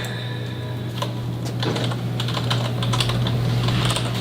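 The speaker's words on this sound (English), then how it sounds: "Test my typing." Close, steady typing on a computer keyboard: a continuous run of small key clicks with a few sharper taps, alone, with a low steady hum running underneath.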